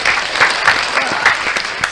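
Brief studio applause for a rapper on a radio show, a steady burst of close clapping lasting about two seconds.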